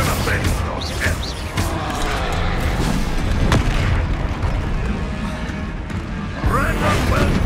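Confringo blasting spell explosion in the Hogwarts Legacy video game: a loud crashing blast amid ongoing combat noise, followed by further bangs and rumbling, with voices talking over parts of it.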